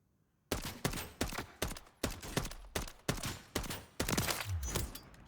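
MCW rifle in a video game firing about ten sharp, evenly spaced single shots at roughly half-second intervals, loud and close with no talk, the last shots running together into a denser burst.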